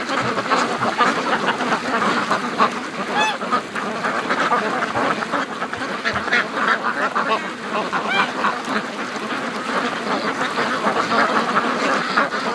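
A flock of free-range ducks, including Muscovies, quacks continuously and loudly at close range near icy water, a dense chorus of overlapping calls without pause.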